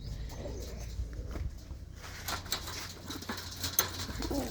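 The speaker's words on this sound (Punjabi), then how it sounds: "ਬਾਈ ਜੀ ਪਿੰਜਰਿਆਂ ਦੇ ਵਿੱਚ ਕਬੂਤਰ" Pigeons in cages give soft, faint coos over a low background murmur, with scattered light rustling and clicks.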